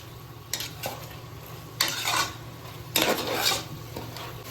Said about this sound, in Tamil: எண்ணெயில் தக்காளி வெங்காயம் எல்லாம் சிக்கன் படுற மாதிரி நல்லா மிக்ஸ் பண்ணிடலாம்